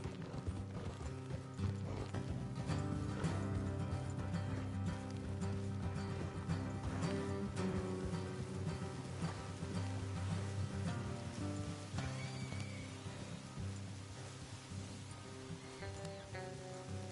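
Steady clip-clop of horse hooves with creaking tack and mechanical rattling in Red Dead Redemption 2, continuous and fairly close, no voices.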